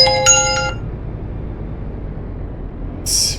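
A mobile phone rings inside the cab of a Volvo FH16 780 truck, giving a short melodic ringtone burst that stops and then briefly resumes at the end over a low engine hum.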